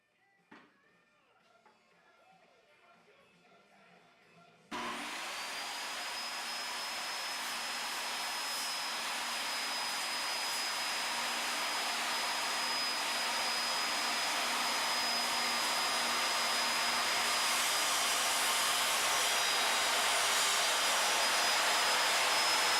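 A Porter Cable 13 amp 7 1/4 inch circular saw with laser guide switches on after a few seconds of quiet handling noise, then runs as a loud, steady whine with a high tone that holds for the rest of the clip.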